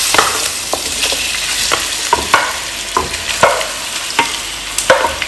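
Chicken pieces sizzle steadily in hot sesame oil, with a bright continuous fry hiss and repeated sharp clinks and scrapes of stirring at a quick, uneven rhythm, close and fairly loud.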